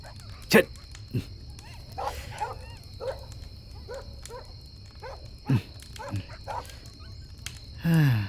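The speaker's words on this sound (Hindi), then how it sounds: "ये कुत्ते भी भौंक रहे हैं।" Several dogs bark and yip at intervals, sharp separate barks scattered over several seconds, some nearer and louder, over a steady background hum with a faint whimpering tone.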